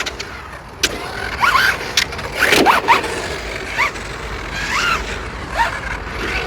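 An MJX Hyper Go 10304 1/10 VW Polo rally RC car whines with its electric motor in short rising and falling bursts as it rips around a car park, with tire scrapes and sharp ticks.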